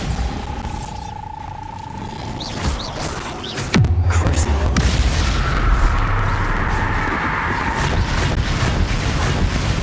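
A Bombarda blasting spell detonates in Hogwarts Legacy gameplay: a deep boom hits about four seconds in, then a broad roaring rumble sustains under wind-like noise and faint tonal game effects.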